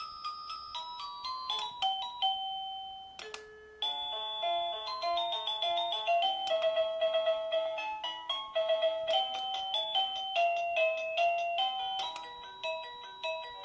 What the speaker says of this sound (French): Donc ici, on va choisir notre sonnerie.